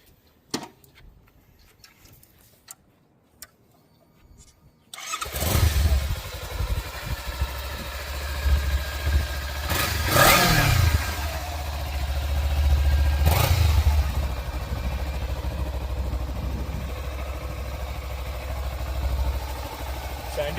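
A motorcycle starts after a few seconds of quiet clicks, then runs with a steady low idling rumble and two brief revs, while people talk nearby.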